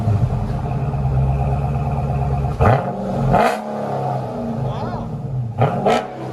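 A Dodge Charger 6.4L HEMI with an aftermarket exhaust rumbles at a deep, loud idle, then snaps through a few sharp revs, with people talking over it.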